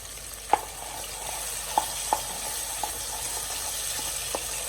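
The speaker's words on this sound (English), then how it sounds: "we are going to stir this" Tomato paste frying in a pan is stirred, giving a steady low sizzle with a few sharp spoon taps against the pan, close and fairly quiet, with no talking.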